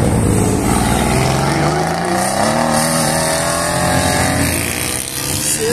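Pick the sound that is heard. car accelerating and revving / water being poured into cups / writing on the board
car accelerating and revving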